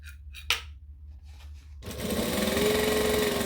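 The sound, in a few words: sewing machine stitching bag sides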